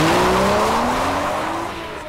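A Porsche Boxster S with a 3.4-litre flat-six boxer engine pulls hard through a corner, its rising engine note loud and close, fading slightly as the tires squeal.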